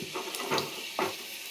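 Whole potatoes with their skins on, slit down the middle, fry in hot oil with a soft, close, fairly quiet sizzle and a couple of faint stirring scrapes.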